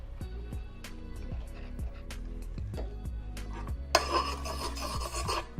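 A cheap knife blade rasps back and forth over the finer side of an oiled whetstone in steady repeated strokes, close and fairly loud, with a sharper scraping burst near the end.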